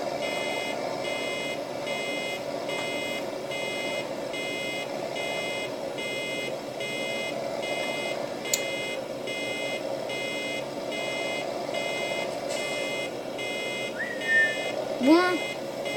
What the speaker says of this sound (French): c'est bon qu'elle est finie, que ça arrête de biper.